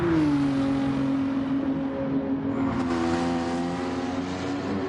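A Porsche race car in Gran Turismo 7, racing at Sardegna, holds a loud, steady high-revving engine note with a strong droning tone that dips slightly and climbs again as it accelerates.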